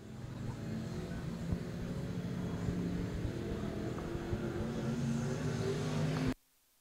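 IMCA stock cars race around the Canyon Speedway Park track at night during the main event, a steady, loud engine roar that runs without a break and then cuts off abruptly.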